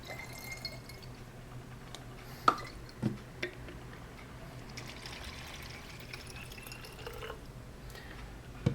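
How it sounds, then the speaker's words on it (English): About 100 ml of water poured into a glass bottle to rinse it, soft faint trickling and dripping with a few small clinks, close by and without talk. "then 100 ml water just to rinse this bottle"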